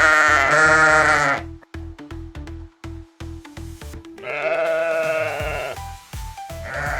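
Two loud, drawn-out sheep bleats sound close up, separated by a stretch of plucked, bouncy children's music with a steady beat.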